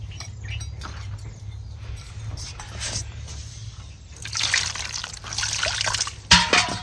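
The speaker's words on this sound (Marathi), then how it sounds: "ही घोसावळी चांगली अशी धुवून घेऊया" Ridge gourds are washed by hand in water at a home kitchen, with soft trickling and splashing that swells toward the end, plus a light clink near the close, all fairly quiet and close.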